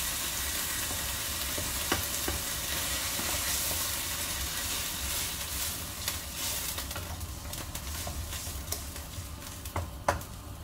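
Steady bubbling and hissing of water boiling in a pot, close and continuous, with occasional small pops and clicks rising above the churning.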